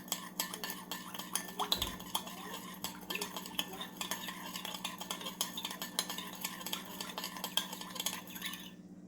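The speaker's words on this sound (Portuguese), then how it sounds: "Mistura bem pra dissolver o açúcar." Sugar being stirred into a little orange juice with a utensil for an orange cake glaze, a steady clinking, scraping rhythm against the bowl, close and continuous.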